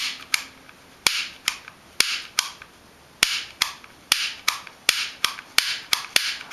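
A BBQ piezoelectric igniter snaps with sharp, close clicks as its trigger is pressed repeatedly, about a dozen crisp snaps at an uneven, quickening pace, with no talking.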